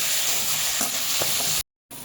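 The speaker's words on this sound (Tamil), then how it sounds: "அதில் 8 பூண்டு விழுது, இஞ்சி கொஞ்சம் போட்டுட்டு நல்லா எண்ணெயில் பொன்னிறம் வரது வரைக்கும் வறுத்துக்குவோம்." Garlic paste and ginger fry in hot oil with a steady, close sizzle and a few soft stirring scrapes. The sizzle cuts out abruptly for a moment, then returns.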